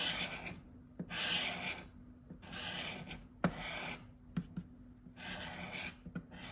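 Coin or fingernail scratching the surface of a Mega Goal scratch-off lottery ticket, close and dry, in repeated bursts of rasping strokes separated by short pauses and a few small taps.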